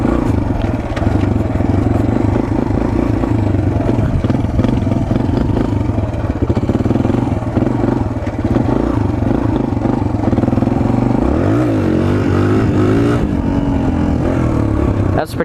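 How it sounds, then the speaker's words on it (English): A Suzuki DR-Z 125L dirt bike ridden on private property doing wheelies, its small engine droning loudly and steadily throughout, with repeated rises in revs as the front lifts. "I'm going to do some... what I like to call sick wheelies."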